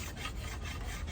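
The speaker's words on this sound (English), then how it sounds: "what we're going to do here is use a cabinet scraper, and we're going to scrape off some material" A cabinet scraper drawn along a hickory bow limb gives a close, steady rasping scrape in short repeated strokes, with no one speaking.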